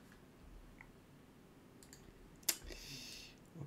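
Computer mouse clicking while connecting to a server, with a single sharp, close click standing out over faint room noise.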